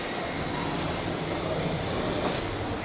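A passenger train in Taiwan rolling along the rails, a steady broadband rumble and hiss of the carriage in motion heard from inside, continuous and even throughout with no talking.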